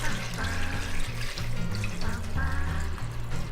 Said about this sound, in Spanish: vamos a añadir agua hasta que cubra la carne